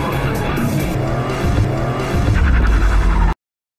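A race car overtakes on a corner in a film scene, its engine roaring loudly with tires squealing and skidding, the sound building and holding before cutting off abruptly.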